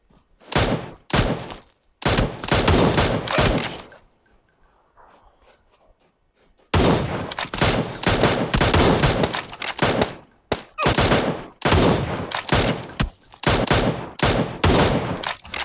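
Gunfire in PUBG Mobile on the Miramar map with the Win94 rifle: loud, rapid volleys and bursts close by, a brief quiet gap partway through, then more sustained firing.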